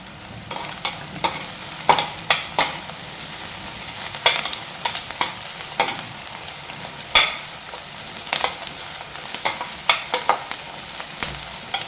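Onions and spices sauté in hot oil for ghee rice, with a constant close sizzle punctuated by repeated sharp scrapes and clinks of a spoon stirring the pan.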